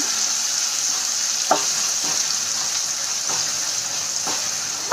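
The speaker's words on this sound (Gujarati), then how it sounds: "એક ઝીણી કાપેલી ડુંગળી એડ કરી લઈશું ડુંગળીને આપણે આછા ગુલાબી રંગની થાય ત્યાં સુધી એને સાંતળી લેવાની છે" Finely chopped onion sautéing in a pan gives a steady, close sizzle and hiss, with a few soft clicks as it is stirred. No one speaks.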